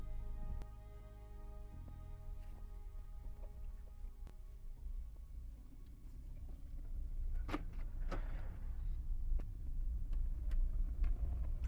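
A VW Polo 1.4 after a gearbox oil service drives along a road, with a low steady engine and road rumble under scattered clicks and ticks from inside the cabin.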